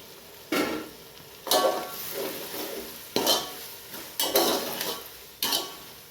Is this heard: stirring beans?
yes